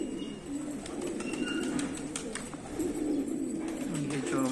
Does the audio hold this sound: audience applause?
no